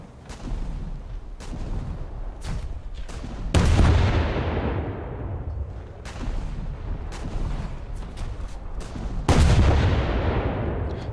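Rocket and gun salvos fired at the player's ship in a naval battle game featuring Russian cruisers, booming repeatedly and loudly over constant battle rumble, with heavy blasts around four and nine seconds.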